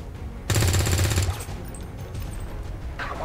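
A single burst of gunfire from a shot taken in XCOM Long War 2: rapid, loud rattling rounds for under a second, then quieter in-game ambience with a faint voice afterward.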